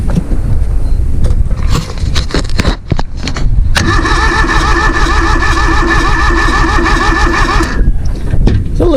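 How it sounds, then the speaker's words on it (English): A small Kubota diesel engine on jumper cables with an inconsistent starter gives irregular bursts of close, loud cranking. The engine then catches into a steady rough idle for several seconds before cutting out. "that starter is not consistent, because sometimes it'll just run, and then other times it'll do that"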